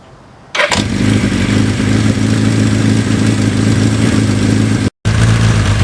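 A 1982 Suzuki GS1100E motorcycle with an unmodified 80,000-mile engine cranks and catches, then settles into a loud, close, steady rumbling idle with a brief cut near the end before it carries on running.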